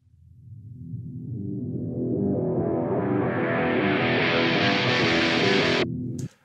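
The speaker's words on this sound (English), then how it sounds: "And now my guitars sound like this." Rock guitars with an automated filter opening on a ramp curve for a build-up, set in Ableton Live: a dense wash whose brightness rises steadily over about six seconds, then cuts off abruptly with a short tail.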